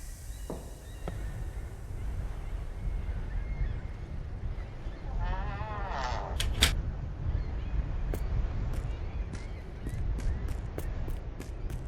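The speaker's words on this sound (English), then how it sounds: "Why are those birds making so much noise?" Geese in the video game The Lightkeeper give a run of loud honks, scattered at first and then coming fast near the end, over a steady low ambient rumble.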